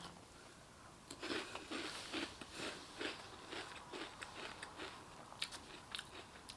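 Crunchy Halloween Crunch cereal being bitten and chewed close to the mic, a run of sharp crisp crunches at an irregular chewing rhythm, fairly quiet with no talking.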